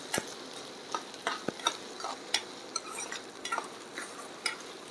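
Chopped onion and green chili frying in a pan for a drumstick-leaf vegetable dish, soft sizzling with sharp intermittent clicks and scrapes of stirring, fairly quiet and close.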